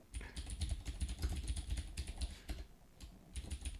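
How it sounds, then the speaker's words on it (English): Rapid clattering keystrokes on a computer keyboard as card names are typed in, close and fairly quiet, in quick bursts with a brief pause near the end. "is me typing in cards"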